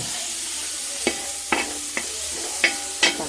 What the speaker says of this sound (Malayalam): അപ്പം തക്കാളിയും കൂടെ ഈ എണ്ണയുടെ മുളകിൻ്റെ കൂടെ ഒന്ന് കിടന്നൊന്ന് വെന്ത് വരട്ടെ